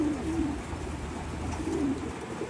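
Pigeons coo in low, rolling phrases, two distinct calls over a steady background hum, fairly close by.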